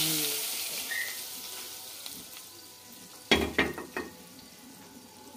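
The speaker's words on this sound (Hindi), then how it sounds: "और इसको मैं लगा रही हूँ तड़का।" Hot oil sizzles and crackles faintly, then a loud burst of spattering sizzle erupts as spices hit the pan for tempering mung and masoor dal, settling into a few sharp pops.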